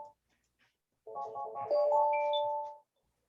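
A phone ringtone for an incoming call sounds out nearby, a steady melodic electronic tone that starts abruptly and holds for about two seconds with a few higher notes layered in, then cuts off into quiet.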